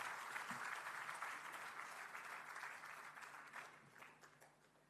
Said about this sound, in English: Please put your hands together and give him a round of applause.